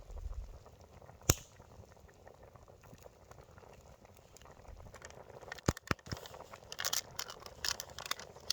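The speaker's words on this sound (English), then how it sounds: "Curry's cooking away." Japanese curry bubbling in a pot on a camp stove during winter camping in a Honda Pilot camper, a faint steady simmer with scattered pops and a few sharper clinks.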